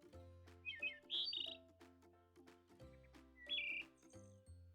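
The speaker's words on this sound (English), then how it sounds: "Thrush." A thrush sings alone in a clear, fairly quiet phrase of varied whistled notes and short trills, with brief pauses between bursts.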